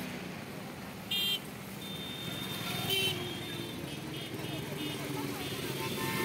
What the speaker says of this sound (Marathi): थोडा वेट करूया, वाहनं येतात, खूप गर्दी आज.